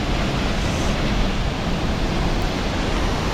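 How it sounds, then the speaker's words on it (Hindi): Rushing water from Tedhi waterfall roars steadily and loudly from close by, a dense unbroken wash of spray and turbulence with no voices. "टेढ़ी वाटरफॉल पे और ये है वाटरफॉल। भाई साहब कहाँ से आ रहा है इतना पानी ये निकल के?"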